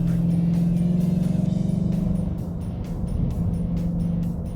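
A Ford Mustang GT350 or GT500 engine drones steadily up close, loud at first and easing slightly, with a deep continuous rumble and no talking.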